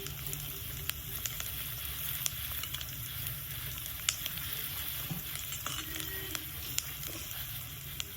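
Onions sizzle in a hot pan with a little rock salt while cooking down for a Ruba fish kolambu, a steady close fry with occasional stirring clicks.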